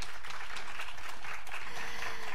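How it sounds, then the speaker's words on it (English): An audience at an astronomy seminar applauds in a steady, dense wash of clapping that lasts throughout, fairly distant and even in level. "Please give them another big round of applause."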